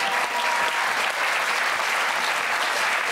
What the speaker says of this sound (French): Applaudissements pour Gérard